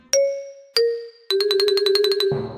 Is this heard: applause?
no